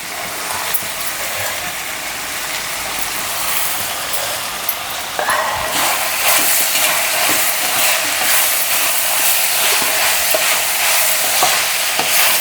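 Cabbage pickle with tamarind cooks in a pan, with a spoon scraping and stirring in repeated clattering strokes over a constant sizzle. The sizzle grows brighter and louder halfway through.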